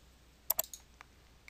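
A computer mouse gives two quick, close clicks, then a few fainter taps and clicks in a quiet room while working in an Excel 2010 spreadsheet.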